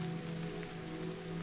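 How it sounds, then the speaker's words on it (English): Gentle rain pattering outside, soft and steady, with a constant low hum beneath the faint drizzle. "the sound of gentle rain outside"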